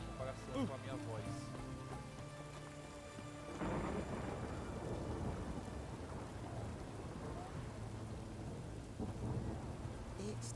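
Steady rain patters and hisses with low rumbles of thunder in The Witcher 3: Wild Hunt, a continuous stormy backdrop while a person talks over it.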